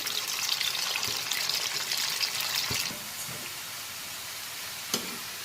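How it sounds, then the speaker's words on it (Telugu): Cauliflower pieces deep frying in hot oil, a steady close sizzle that drops to a quieter hiss partway through, with a few faint clinks of utensils. "కాలీఫ్లవర్ ఇట్లా మనం డీప్ ఫ్రై చేసేసుకున్నాం కదా"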